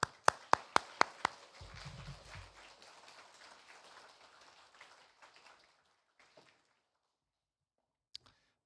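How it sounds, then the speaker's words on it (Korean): A few sharp single claps open, then a congregation in a Korean Sunday church service breaks into warm welcoming applause for a guest missionary, swelling briefly and tapering off into scattered claps and near silence. "우리 나오실 때 환영의 박수로 맞이하겠습니다"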